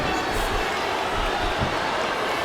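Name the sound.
crowd cheering in WWE SmackDown vs Raw 2007 video game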